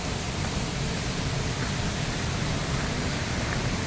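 Mountain stream in the hills of Sha Tin Wai, Hong Kong, a continuous broadband rushing of flowing water, steady and fairly close, with no voices.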